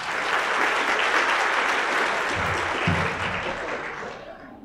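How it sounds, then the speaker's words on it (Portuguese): Audience at a nursing congress lecture breaking into sustained applause to welcome the speaker, a dense even wash of clapping that thins and fades toward the end. "Uma salva de palmas, por favor."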